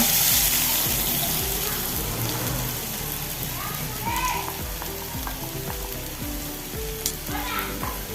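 Four large chopped onions dropped into hot oil with popping mustard seeds, a loud continuous sizzle and frying hiss with scraping stirs, close by.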